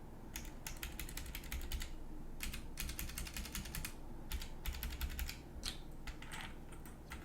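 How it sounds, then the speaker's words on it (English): Bursts of clicky typing on a PICTEK mechanical keyboard fitted with Outemu blue switches, rapid sharp keystrokes in several runs separated by brief pauses, close and clear over a low steady hum. "These are Outemu blue switches."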